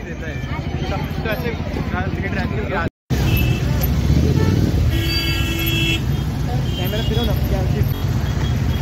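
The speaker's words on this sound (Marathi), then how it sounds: "तर मित्रांनो फुल ट्रॅफिक मध्ये फसलोय। आता हा सिग्नल लागतोय।" Heavy road traffic at a signal in Nashik, heard from inside a car stuck in the jam: a constant engine and road roar, a couple of horn toots midway, and people talking over it.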